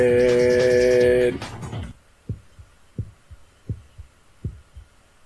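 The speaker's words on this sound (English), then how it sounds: "Heartbeat." Heartbeat sound effect from the PSP video game Coded Arms: after a loud burst of game music cuts off, a series of low, thumping double beats pulses steadily at moderate volume, five heartbeats in a slow, even rhythm.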